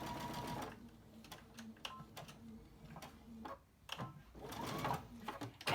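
A sewing machine runs a fabric mask seam in short repeated bursts, its rapid mechanical stitching stopping and restarting several times, close and steady, with no talking.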